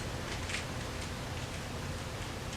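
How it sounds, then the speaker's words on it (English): Steady rain during rainy season makes a soft, continuous hiss, fairly faint and even throughout, with a few slightly brighter drips near the start. "Then the rain stops. It's a rainy season."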